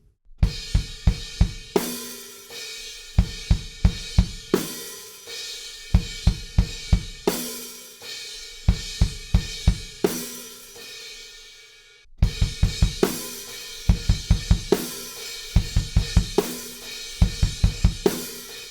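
A full band groove with pounding drums, rapid bursts of four sixteenth-note kick drum hits in quick clusters under heavy guitars, stopping briefly before the pattern resumes.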